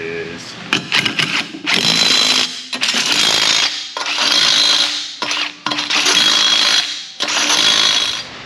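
A loud impact wrench hammers acorn-style lug nuts onto a 2013 Toyota Corolla wheel in several short, rattling bursts with brief pauses between, close by in a garage.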